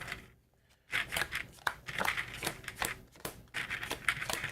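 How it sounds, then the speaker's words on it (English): Playing cards from a combat deck for the board game Sleeping Gods: Distant Skies being shuffled, a quiet pause and then a run of dense, crisp riffling snaps and rustles that continue close up with short gaps. "Shuffle up our combat deck."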